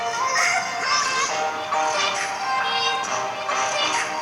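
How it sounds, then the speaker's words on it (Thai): Music plays steadily from an HW22 smartwatch speaker, thin and tinny with little bass, at a fairly close and even volume. "อันนี้คือเสียงจากนาฬิกานะครับ"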